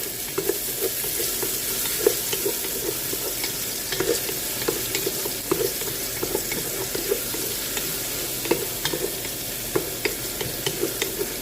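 Onions frying in a pan for rice with mixed vegetables give a continuous close sizzle dotted with small crackles and pops, no one speaking.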